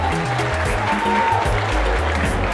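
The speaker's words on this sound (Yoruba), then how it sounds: "Ẹ bá mi pàtẹ́wọ́ fún mi." An audience claps at a Yoruba cultural day lecture at Adekunle Ajasin University, a steady wash of applause that holds at an even level throughout, with a faint low tonal hum underneath.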